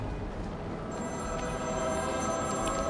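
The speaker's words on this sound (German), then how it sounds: "das klingelnde Telefon ist mir jetzt auch egal" A telephone rings inside the Batman Arkham City video game, a steady ringing tone held under a dense layer of game sound with no clear break across the stretch.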